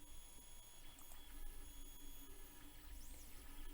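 A Bukito 3D printer runs a print of a faceplate shape, giving a faint, steady mechanical whine with thin high tones and small shifting stepper-motor sweeps, close and continuous, with no talking.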